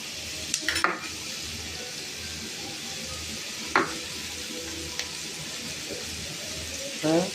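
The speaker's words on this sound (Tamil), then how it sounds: "நல்லா எண்ணெயில் வெங்காயம் பொன்னிறமாக வரணும், ரொம்ப பொன்னிறமாக இல்லை, ஓரளவாக" Sliced onions fry in oil in a pan while being cooked to a light golden colour. A steady sizzle runs throughout, broken by a few sharp stirring scrapes and clinks, and no voice is heard over it.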